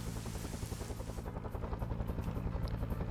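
Helicopter rotor in a Vietnam War video game, a steady rapid chopping throb that stays loud and continuous throughout with wind-like noise over it.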